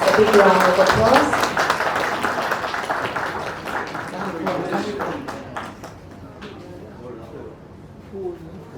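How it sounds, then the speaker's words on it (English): Audience clapping at a lamp-lighting ceremony for a foundation day event, loud and sustained at first, thinning out gradually with scattered claps and voices talking underneath. "A big round of applause."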